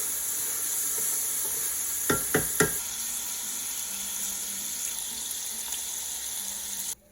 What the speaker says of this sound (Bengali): এগুলোকে সব কিছু একটু ঘন ঘন নাড়তে হবে, যেন পেঁয়াজটা না বেশি বাদামি না হয়।